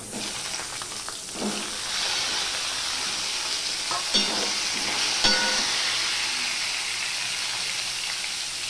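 Cut potatoes hiss and sizzle steadily in hot oil with tempering spices for a Bengali vegetarian dish, a constant bright frying wash broken by a few sharp stirring clinks and scrapes near the start and middle.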